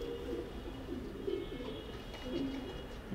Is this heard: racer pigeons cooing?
yes